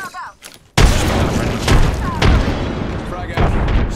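Frag grenade blasts boom loudly in Apex Legends: a sudden heavy explosion after a quiet moment, followed by further thudding bursts and crackling gunfire, with players talking over the noise.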